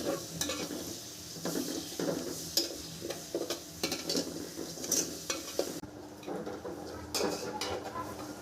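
Spice masala cooking in oil for meat, a low sizzle with frequent stirring scrapes and clinks of a spoon against the pot, close and fairly quiet, with faint background voice.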